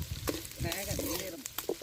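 Onions sizzle and crackle steadily in hot oil, a close, continuous frying hiss with occasional brief pops and stirring sounds.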